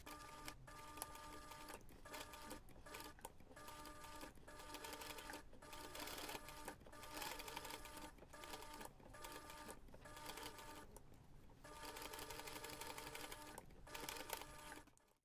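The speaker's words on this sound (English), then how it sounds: "you can take this to the machine and top stitch around the entire piece" A sewing machine top stitches around a fabric Santa ornament piece, a fast steady mechanical whir running in long stretches broken by brief pauses, close and alone.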